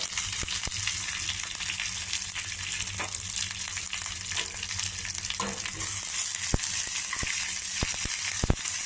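Tempering spices and curry leaves crackle and sizzle in hot oil, with sharp pops and spoon scrapes against the pan breaking through the steady hiss.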